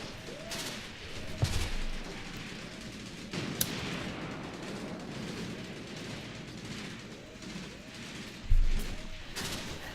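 Artillery fire in the Graviteam Tactics war game, with dull booming impacts and a dense rumble of distant gunfire running steadily throughout, heavier thuds standing out near the start and toward the end.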